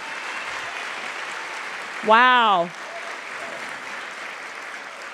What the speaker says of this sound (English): Let's give these people who are still standing a round of applause